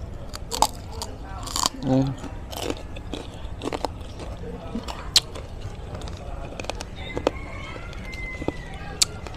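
Close crunchy chewing, with sharp bites and crackling crunches scattered irregularly over quiet background noise.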